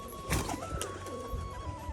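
A pair-bonded Rajshahi pigeon, a newly mated 'fassa' bird with a white face touched with red, coos in short, low throaty bursts close by, over a steady background hum.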